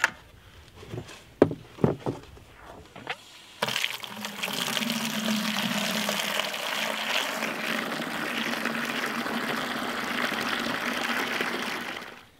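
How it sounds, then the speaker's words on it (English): Water gushes steadily into a bucket for a homemade chicken waterer, starting after a few handling clunks and then running loud and continuous without pause, close to the listener. "Let's go fill this bucket up with water"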